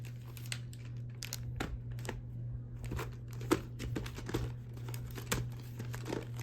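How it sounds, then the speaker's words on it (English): A plastic VHS clamshell case is handled and catches on carpet, producing close, crackly plastic clicks and crinkles in irregular bursts over a low steady hum with no voice. "the clamshell was stuck on the carpet there"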